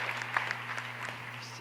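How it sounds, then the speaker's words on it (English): An audience at a girls' high school hockey game claps steadily for a senior being honoured, with a low hum running beneath the applause. "Receiving that nice round of applause"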